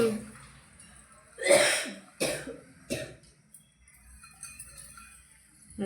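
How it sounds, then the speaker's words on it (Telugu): Several sharp coughs, close and loud, come in a quick burst of three or four, followed by quieter breathy sounds and faint background noise. "లడ్డూలు తిని దగ్గు బాగా లేచింది"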